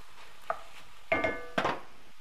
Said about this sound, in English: add in the shallot. Stir that around a little bit.